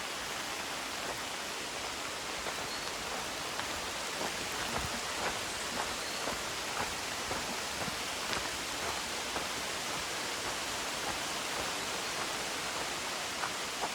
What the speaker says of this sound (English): the leaves are blocking most of the rain